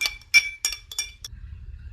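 A spoon clinks against a glass while lemon juice is stirred for homemade soda, giving four or five bright, sharp, close taps in quick succession, then stopping.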